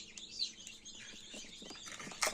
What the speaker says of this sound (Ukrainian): Так, тут у нас і з'явилася одна піта. Ось таке курчатко.